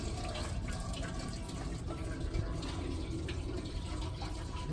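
Coolant from the radiator of a 1985 Chevrolet C10 pours into a catch container in a steady, splashing trickle that runs without a break, close by, while a faint murmur of voices sits underneath.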